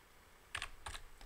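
A few separate computer keyboard key presses, close by in a quiet room: two quick double clicks and a single tap, with no talking.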